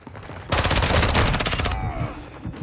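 A loud close burst of automatic gunfire in a film firefight, rapid rattling shots for about a second and a half, then fading into echo and quieter rumble.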